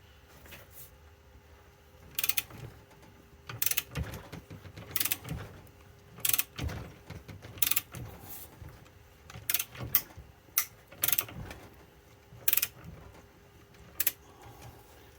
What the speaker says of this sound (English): I'm going to have to switch ratchets. I was using that short little 1/2-inch drive ratchet, or shorter. And I've got the much larger one out.